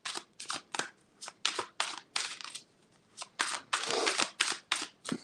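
Tarot cards are shuffled in quick repeated bursts of crisp riffling and slapping, close up, with brief pauses between runs.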